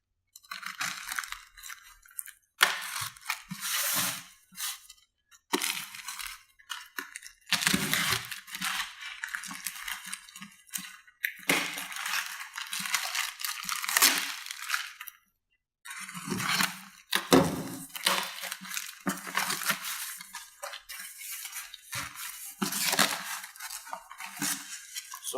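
Cardboard packaging of a VS Racing 7875 cast turbo being torn open up close, with crackling rips, rustles and dull knocks coming in uneven bursts separated by brief quiet gaps, and no talking.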